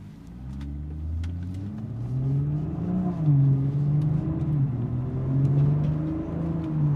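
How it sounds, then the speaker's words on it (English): A modded BMW 340i M-Sport pulls away in drive, its engine note a smooth low hum that climbs gently and then holds steady as the car cruises, heard from inside the cabin without revving hard. "We're gonna put this in drive and we're off."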